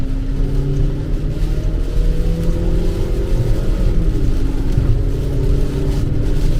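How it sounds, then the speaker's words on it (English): A car fitted with a 2011-2014 Kia Optima/Hyundai Sonata engine accelerates from about 25 mph at roughly three-quarter throttle, a loud, steady engine drone rising in pitch with strong road and wind rumble inside the cabin. "I'm gonna give it some acceleration."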